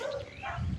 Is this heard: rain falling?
no